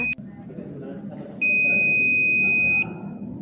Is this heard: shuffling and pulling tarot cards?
no